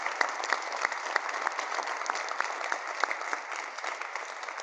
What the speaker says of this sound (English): Could we get a round of applause for the loan executives?